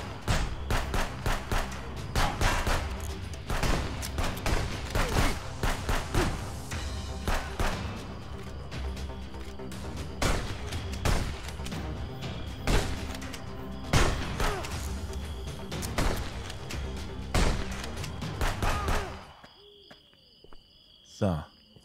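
Rapid gunfire from a pistol in the video game Contraband Police, with many sharp shots in dense bursts over a busy game soundscape for about nineteen seconds before the action cuts out.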